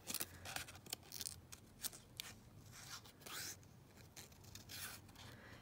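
Scissors snipping card stock into small fabric tags and journal cards: a quiet, close series of crisp cuts and slicing strokes in an irregular rhythm, with no talking.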